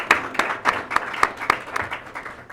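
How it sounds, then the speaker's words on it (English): Audience at a 2013 FortisTCI plenary session clapping; a short burst of scattered applause with distinct, fairly loud individual claps from a modest crowd. "Let's give her another round of applause, please."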